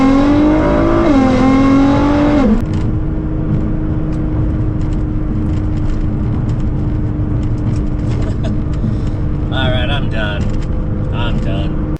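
A Nissan GT-R sports car engine drones steadily and loudly throughout a hard acceleration pull, after a brief rising rev at the start; a few short higher tones flicker near the end.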